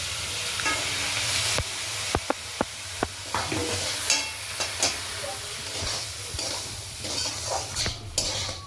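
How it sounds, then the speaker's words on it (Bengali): Semolina halwa with sugar and water fries in a pan, a low steady sizzle broken by repeated sharp scrapes and knocks of a spoon stirring against the metal. "এবার আমরা একটু ভালো করে ভেজে নেব।"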